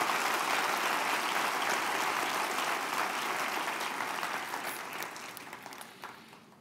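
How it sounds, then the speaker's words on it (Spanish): Congregation applauding during a Friday devotional church service, a dense steady clapping wash that slowly fades out toward the end, with no talk over it. "Denle un aplauso al Rey bendito."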